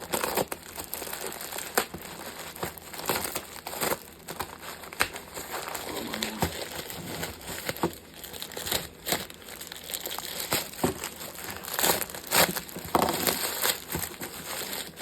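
Plastic bags crinkle and crackle continuously as they are handled and unwrapped, with sharp rustling bursts throughout, close up and fairly quiet.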